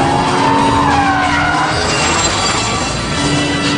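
A Porsche 911 engine roars loudly and continuously at racing speed on a track while the car brakes and skids through a turn, with the engine note rising and shifting and no talk over it.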